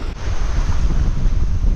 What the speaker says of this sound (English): Because you can hear the water and all that.